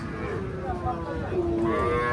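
A native desi calf moos in drawn-out, wavering calls over a busy murmur of crowd noise at a village cattle market, with a second lower moo rising near the end.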